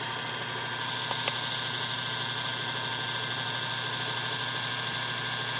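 A 5400 W Chinese wind generator spins on a test, giving a continuous, even mechanical hum and whine with no pauses, close and steady throughout, with no talking.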